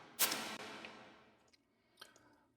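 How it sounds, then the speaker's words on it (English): A sharp burst through a metallic plate reverb, with a long, bright metallic tail that shimmers and decays over about a second, followed by a few faint clicks. "Here's the sound of the plate."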